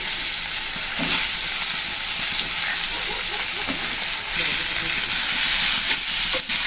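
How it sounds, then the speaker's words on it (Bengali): Prawns and potatoes fry steadily in a pan, giving a dense, continuous sizzle with faint stirring scrapes, close and even throughout, with no talk. "আলু দিয়ে চিংড়ির মধ্যে সুন্দর করে ভেজে নিলাম"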